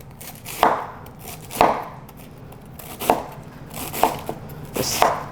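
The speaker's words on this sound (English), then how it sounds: "I'm gonna chop up some and leave some for different textures" A knife chops through cabbage on a board for a vegan Southern fried cabbage, five evenly spaced firm thuds with quiet gaps between, close and alone without talk.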